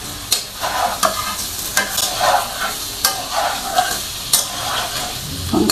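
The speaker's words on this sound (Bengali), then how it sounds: "এখন আমি এর মধ্যে অ্যাড করে দিচ্ছি এই যে আমার আগে থেকে ফ্রাই করে রাখা চাল কুমড়ো এবং আলু।" Fried ash gourd and potato hit hot oil and spices in a pan, sizzling steadily while a spoon stirs and scrapes in a rhythmic series of close, sharp strokes.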